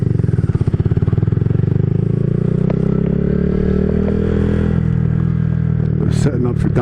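A Honda Grom motorcycle accelerates on a flat highway stretch, its engine a loud, close buzz with rising pitch and strong wind rush, while a rider speaks over it.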